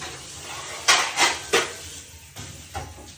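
A pot of boiled chicken set down on a kitchen stove: three quick, close metallic knocks and scrapes, followed by a couple of softer clunks.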